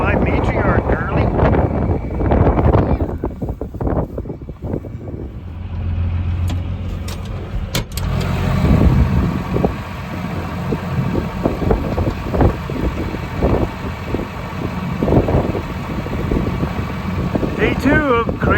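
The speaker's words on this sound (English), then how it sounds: "Day 2 of crazy wind." Strong wind roars and buffets the microphone outdoors near a dugout wall where animals shelter, a loud continuous rumble with gusts that persists under frequent talking.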